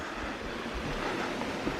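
River water rushing over rocks along the River Irthing near Gilsland, a steady broad wash of flowing water heard close with some wind noise.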